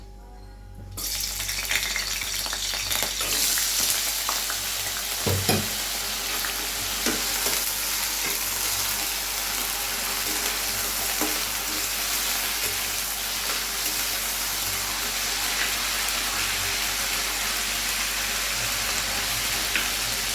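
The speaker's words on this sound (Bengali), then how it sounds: "আমি এবার আলু যে কেটে রেখেছি সেই আলুগুলো" Cut potatoes dropped into a hot pan, then frying with a loud, steady sizzle that starts abruptly and carries on with occasional clinks and scrapes of stirring, close and without speech.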